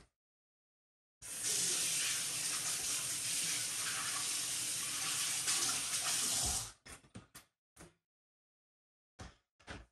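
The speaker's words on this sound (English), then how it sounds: "let me rinse this off." Tap water runs steadily into a kitchen sink for about five seconds while raw ground wild boar for a sandwich is rinsed off. The flow is close and fairly loud, then shuts off, followed by a few brief splashes and clinks.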